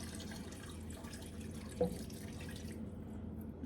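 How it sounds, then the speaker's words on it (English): Water runs into a pot of dry beans to cover them for Massachusetts baked beans, a steady near pouring and trickling wash with a small splash partway through, continuing alone without talk. "you're just gonna fill it up with water until the beans are covered"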